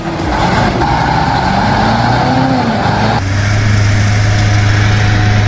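A heavy timber logging truck labors along a muddy road, its engine droning loud and steady throughout, with a shift in pitch partway through.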